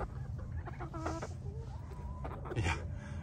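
Backyard chickens clucking with a rooster among the flock, a series of short cackles and clucks, moderately close, over steady outdoor background noise.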